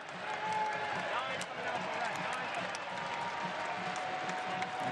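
A stadium crowd at a Tampa Bay Rowdies vs Loudoun United FC soccer match applauds as the team captain is substituted off. The clapping and crowd murmur are distant and fairly faint, rolling steadily throughout.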